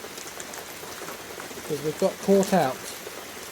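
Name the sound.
rain falling on a hut roof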